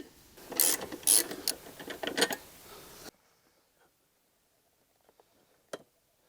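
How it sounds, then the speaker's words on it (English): A hex key works a screw on the seat of a Honda CRF300L motorcycle, giving a few seconds of close, quick metallic ratcheting clicks, then near silence broken by one faint later click. "you're going to have to remove this screw"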